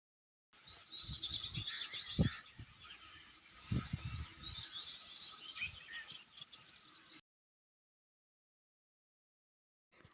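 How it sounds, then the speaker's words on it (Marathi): Several birds chirp and twitter at a distance, with a couple of louder calls, then the sound cuts to silence. "दुपारी बघा पक्ष्यांचा आवाज येत होता इतकं सुंदर वाटत होतं"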